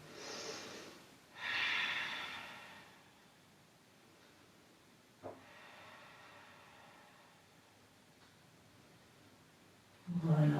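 Breathing during a dynamic yoga stretch routine, a few slow nasal inhales and exhales, close and soft, separated by quiet gaps with a small tap midway.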